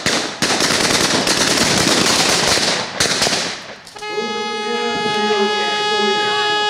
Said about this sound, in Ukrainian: У центрі міста стрілянина.